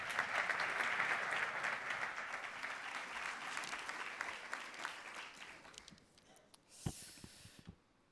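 Applause from attendees at the opening of a medical profession convention, a strong burst of clapping that fades out over several seconds, followed by a few scattered sounds and a brief bump near a microphone.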